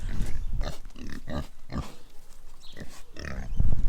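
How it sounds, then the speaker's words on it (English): Hungry farm pigs on a frosty morning grunting and squealing repeatedly at close range, a busy overlapping chorus of snorts and oinks as they wait for breakfast. "I've got some hungry pigs that want their breakfast"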